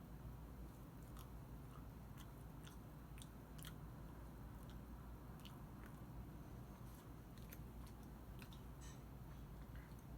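Chewing on vegan seitan jerky made from wheat gluten and tofu: faint, irregular crunchy bites and clicks over a steady low background hum, with no talking.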